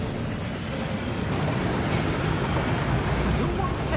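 A rushing waterfall pours over the Gringotts vault passage in the video game Hogwarts Legacy, a steady, dense roar of falling water that fills the space with constant broadband wash, with faint game voices beneath it.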